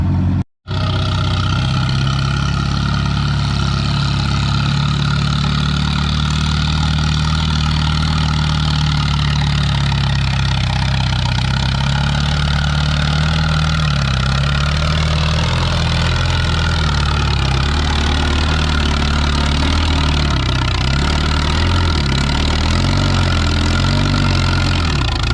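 A pulling tractor's engine idles loudly and close, a deep, steady rumble with a lumpy low throb that holds for about twenty-five seconds after a brief cut at the start.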